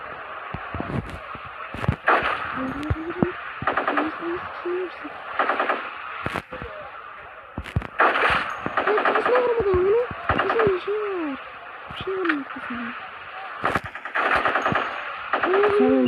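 Rapid bursts of automatic gunfire from the mobile shooting game Modern Sniper, loud and repeated in several volleys with talking in between.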